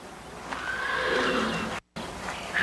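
A horse whinnies in a long, loud, wavering neigh, followed by a brief silence and the start of another call.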